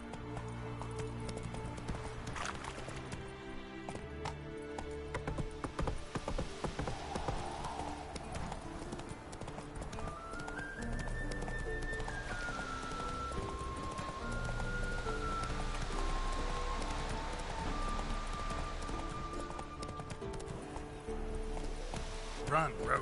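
A horse gallops in The Witcher 3 video game, steady clip-clop hoofbeats running under a full game soundtrack with music, fairly loud and continuous throughout.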